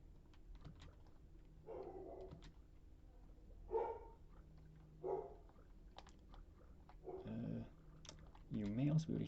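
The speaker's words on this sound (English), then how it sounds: "You may also be able to hear my mom's dog right now." A dog barks in short bursts in the background of a room, faint and intermittent, alongside computer keyboard typing and someone talking.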